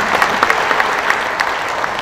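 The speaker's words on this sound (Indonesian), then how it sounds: "Tepuk tangannya" Applause from the audience at a PKS party regional congress in West Java, a dense, steady patter of many hands clapping close by, continuing throughout.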